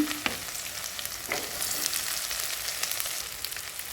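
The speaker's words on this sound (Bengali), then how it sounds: "তেলটা গরম হয়ে এসেছে এখানে দিয়ে দিচ্ছি রসুন কুচি আর সাথে দিয়ে দিব পেঁয়াজ কুচি" Chopped garlic and onion dropped into hot oil, sizzling steadily up close with a couple of scraping stirs near the start, the hiss continuing evenly without any voices.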